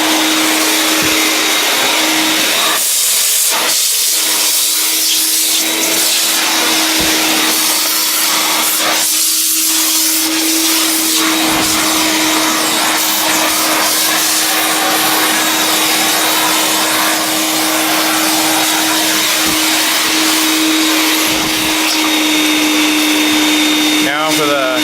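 A Vax 221-07 wet/dry vacuum cleaner is switched on and drones loudly and steadily throughout, with occasional knocks and rustles as it is handled nearby.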